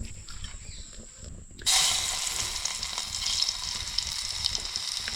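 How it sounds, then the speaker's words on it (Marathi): Quiet at first, then a sudden loud burst of sizzling as garlic hits hot oil for tempering, settling into a steady close crackle. "लसूणमध्ये फोडणी"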